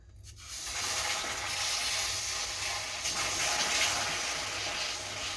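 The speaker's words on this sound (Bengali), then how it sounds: "গুড়টা যখন পুরোপুরি মেল্ট হয়ে যাবে এবং একটা সুন্দর কালার চলে আসবে, তখনই এর মধ্যে একটু জল অ্যাড করে দেব।" Water splashed into melted jaggery in a hot pan sets off a loud, steady sizzling hiss that starts abruptly and holds for several seconds, with no talking.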